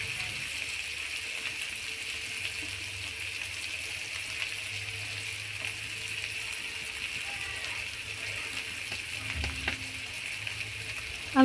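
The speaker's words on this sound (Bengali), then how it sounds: "এটাকে সুন্দরভাবে মিশিয়ে নিতে হবে এবং আবার কষাতে হবে" Potato curry being mixed and sautéed in a pan with cumin paste and green chilies, a steady low sizzle running throughout with faint stirring scrapes, moderately quiet and close.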